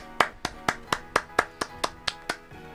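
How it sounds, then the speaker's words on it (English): Round of applause given by a small group or single person in the Amiga demo dev session: about nine sharp, evenly spaced claps, close and clear, with no talking over them. "give Rob Smith a round of applause"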